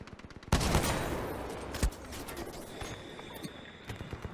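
Sniper rifle fire in Titanfall 2 gameplay: two sharp, loud shots about a second apart, the first followed by a rolling echoing tail, with faint clicks and game noise around them.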